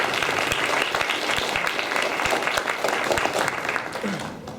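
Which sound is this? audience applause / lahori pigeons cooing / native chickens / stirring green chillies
audience applause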